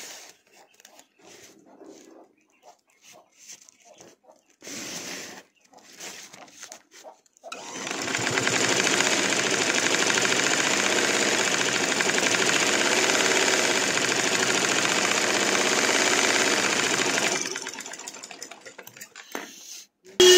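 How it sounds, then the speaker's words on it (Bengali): A sewing machine stitching the side of a bag made from a sack, running in one long steady whirring burst of about ten seconds, with shorter bursts and quiet handling noise before and after. "অপর পাশে আরো একটি সেলাই দিবেন।"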